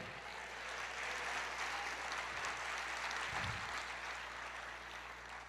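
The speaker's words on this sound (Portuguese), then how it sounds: "E aplauda o Senhor." Church congregation applauding during a worship service, a faint, steady wash of many hands clapping at a distance over a low room hum.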